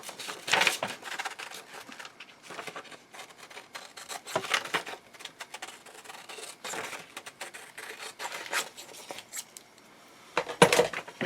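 Scissors snip through paper in a series of short, crisp cuts with rustling and crinkling between them, fairly quiet and close, with no talking.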